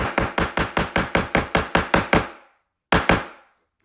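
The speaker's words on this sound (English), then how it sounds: "I'm gonna try the hammer on the N-Hance product." A hammer strikes wood coated with an N-Hance finish, landing about a dozen quick, even, sharp knocks in a row, then a pause and two more close blows.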